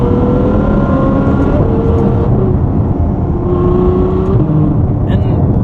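The naturally aspirated engine of a Ferrari F12 Berlinetta revs in rising and falling sweeps, loud and close, while someone speaks over it.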